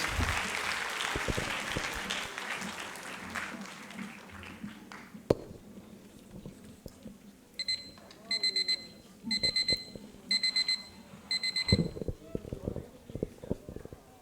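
An audience at a school play on the importance of education claps loudly, applause washing in at the start and fading out, followed by a repeated electronic beeping tone and scattered knocks, with a voice speaking over parts of it.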